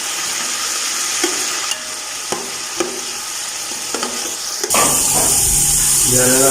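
Green peas fry in ghee for chicken matar pulao: a loud, close sizzle under repeated sharp strikes of a spoon stirring the pan, then a sudden louder burst of hissing near the end.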